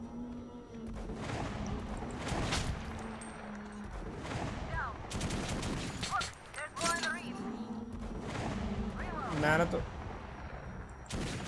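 Gunfire in the video game Metro Last Light Redux comes in repeated sharp bursts and volleys over a noisy game soundscape, with someone talking throughout.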